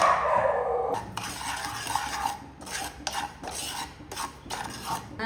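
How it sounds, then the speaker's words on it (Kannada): Semolina (rava) dry-frying in a pan on a low flame, stirred with a spoon in steady scraping, rasping strokes, close and moderately loud with no talking. "ಈ ರವೆಯನ್ನು ಲೋ ಫ್ಲೇಮಲ್ಲಿ ಇದನ್ನು ಸ್ವಲ್ಪ ಒಂದು ಮೂರು ನಿಮಿಷ ಫ್ರೈ ಮಾಡಿದರೆ ಸಾಕು"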